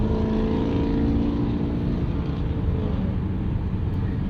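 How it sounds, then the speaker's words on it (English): Chevrolet Camaro SS engine rumbling low and steady as it cruises past in the rain, a continuous throaty drone heard from inside another car, with no voices. "Very good noise from that Camaro SS."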